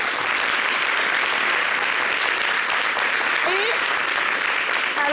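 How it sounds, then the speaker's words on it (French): Dense, steady applause from a crowd, a continuous wash of clapping that holds at an even level throughout. "Ça s'applaudit."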